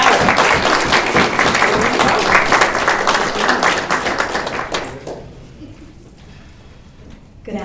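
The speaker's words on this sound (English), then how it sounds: "How about a round of applause for Miss Amelia Bauer?" A school audience claps for a student receiving an outstanding student of the month award, loud and dense for about five seconds before it dies away, leaving a quiet room and a brief noise near the end.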